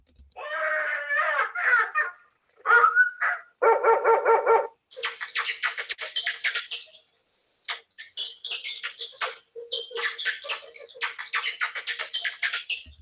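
Bats call in a long run of rapid, shrill chattering and squeaking bursts, dense and clustered with brief pauses, heard up close with no voices.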